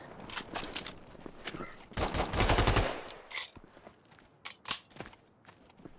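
SMG fire rattles out in a video game match, with scattered single shots, one dense sustained automatic burst, then more sporadic bursts and a few sharp cracks, at moderate loudness.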